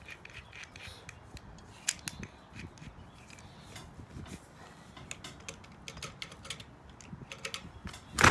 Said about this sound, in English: I have to adjust my wrench here.